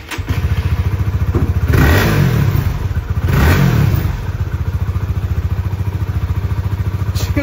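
A motorcycle engine revs up twice in loud surges over a steady, rapidly pulsing idle, close by, with no talking.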